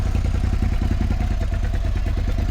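Motorcycle being loaded into a truck without a ramp before a track day at the Bugatti circuit in Le Mans, with a loud, close engine running in a rapid steady pulsing idle and some clatter.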